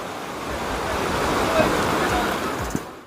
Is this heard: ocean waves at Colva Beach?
yes